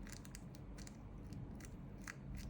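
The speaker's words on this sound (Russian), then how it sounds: "Вот сейчас по кругу вот так все подрежу, чтобы спустить немного сам пакет" Scissors trim a plastic bag around a handmade tassel for a Christmas ornament, giving short crisp snips at a steady pace over a constant low hum, faint and close.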